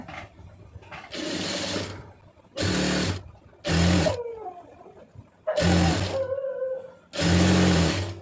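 A sewing machine stitches a folded quarter-inch blouse hem, running in several loud whirring bursts of a second or so, separated by short pauses with faint handling noises.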